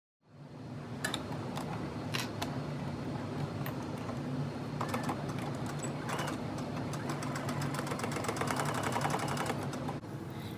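A sewing machine starts up and runs steadily, stitching a half-inch seam on a quilted jacket, its rapid mechanical whir continuing close by for about ten seconds before stopping.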